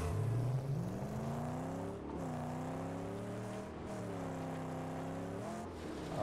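A vehicle driving in the video game Mad Max, its engine droning steadily and loudly with repeated rising revs and drops between gear changes, no talk over it.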